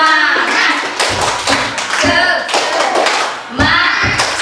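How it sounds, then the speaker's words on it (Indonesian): Preschool children at a PAUD early-childhood class perform the Indonesian 'tepuk semangat' spirit clap, with loud, sharp hand claps in rhythmic bursts and short gaps between groups. "Tepuk semangat."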